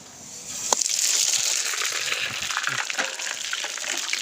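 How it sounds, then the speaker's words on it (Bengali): Fennel seeds, panch phoron and dried chilies dropped into hot oil, a sudden loud burst of frying that settles into a continuous crackling sizzle with scattered pops. "এর মধ্যে দিয়ে দিচ্ছি কিছু মশলা, মৌরি, পাঁচফোড়ন আর শুকনো লঙ্কা।"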